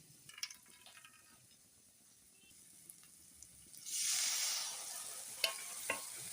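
Spice paste of ginger-garlic, cashew paste, raisins, coriander, turmeric, cumin and dried chili paste for a Bengali katla fish kalia sizzles softly in a pan, with a louder frying hiss swelling midway and a few scrapes of stirring near the end.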